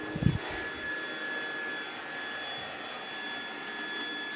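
A robot vacuum cleaner runs indoors at home with a steady, even whirring whine that holds at constant loudness. A brief knock comes just as it starts.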